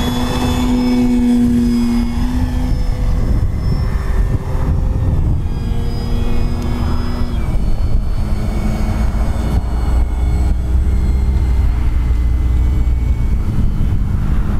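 An FMS Pitts 1400mm RC biplane flies overhead after rain, its electric motor whining steadily with shifting pitch as it passes, loud and continuous throughout.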